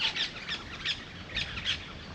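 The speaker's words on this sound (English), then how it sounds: "here come the white parrots now" White parrots call as a flock flies over off-grid bushland in Western Australia, giving faint, distant, repeated squawking chirps over a soft outdoor hiss.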